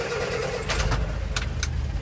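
A cold 1971 Land Rover Series IIA 88 with electric and mechanical fuel pumps cranks and catches, a steady low engine rumble running close throughout with a couple of brief mechanical rattles.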